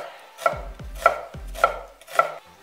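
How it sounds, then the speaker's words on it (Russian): A knife slices an onion into thin strips on a cutting board, four crisp evenly spaced chops heard close up with no talking. "Также понадобится 1 луковица. Нарезаем перьями."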